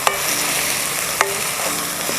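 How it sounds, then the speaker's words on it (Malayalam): Ginger paste sautés in a pan with a steady sizzle. A spatula scrapes and stirs it in a few sharp strokes, the loudest near the start and the middle. No one speaks. "അപ്പോൾ ഈ ഇഞ്ചി പേസ്റ്റ് ഇട്ട് കഴിഞ്ഞാൽ ഒന്നുകൂടെ ഒന്ന് നല്ലപോലെ വഴന്നെടുക്കണം."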